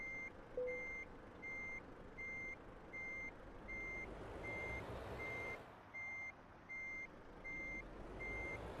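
A reversing truck in Euro Truck Simulator 2 emits a steady series of evenly spaced electronic beeps, about one per half second, over a low idling engine rumble and no talk.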